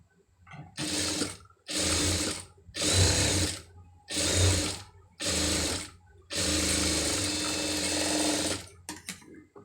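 Sewing machine stitching a sleeve design, running in six steady bursts of rapid mechanical whirring separated by short pauses, close and clear with no talking.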